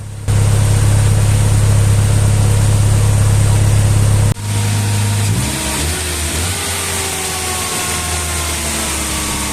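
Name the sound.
car engine running slightly high idle after starting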